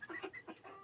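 Pastured chickens cluck in a few short bursts close by, a quick run of soft throaty calls.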